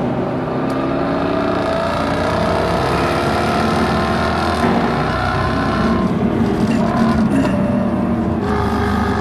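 Jaguar XKR-S supercharged V8 engine on a hot lap around a hilly Portuguese circuit, a loud, continuous drone rising and falling with gear changes and throttle, close and steady throughout with no talking.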